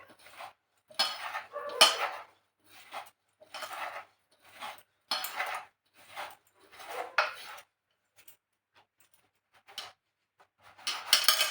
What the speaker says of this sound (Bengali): এইবারে আমরা মশলাটাকে ভালো করে মিক্সড করে নেব